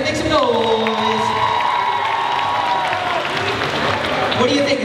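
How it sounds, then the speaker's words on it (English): A school crowd of kids cheering, shouting and clapping together, a loud, sustained roar with high whoops rising above the applause and no break throughout. "Clap your hands, make some noise."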